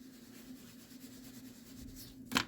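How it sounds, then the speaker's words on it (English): Soft eraser strokes on paper over a pencil drawing, a light continuous rubbing with a steady hum beneath and one brief sharper scrape near the end, close and quiet. "I'm just going very softly here, but I drew softly, so I don't have to erase real hard at all"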